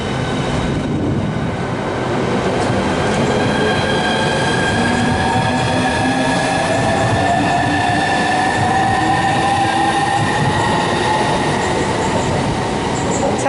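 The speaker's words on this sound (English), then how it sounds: "now about to make its way off will be the 1432 Southeastern service to Favisham" A Southeastern train pulls out of Stratford International on HS1 in Train Sim World 3, giving a continuous rolling rumble with motor whines that climb steadily in pitch over about thirteen seconds, with no talking.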